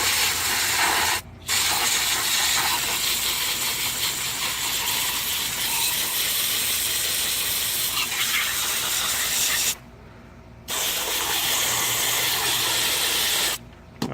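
A garden hose spraying water to soak a Redmax G23L weedeater, a loud continuous hiss in several long bursts with brief gaps where the spray stops.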